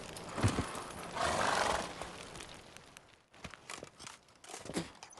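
Roach, Geralt's horse in The Witcher 3, whinnies with a brief rising burst early on, then hooves clop and shuffle unevenly nearby, loud at first and thinning out toward the end with no talking.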